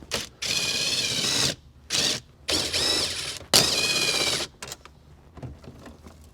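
Four bursts of ratcheting, loud and close, as a hand ratchet backs out the 10mm bolts around the radio in a Toyota Avalon dash, with short pauses between and light clicks afterward.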